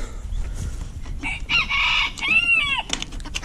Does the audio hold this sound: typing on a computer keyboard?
no